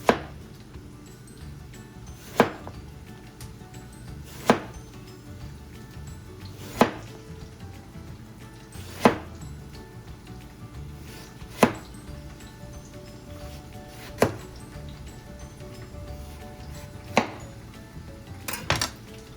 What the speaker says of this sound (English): after we slice this eggplant, we are going to salt it